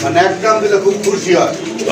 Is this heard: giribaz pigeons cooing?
yes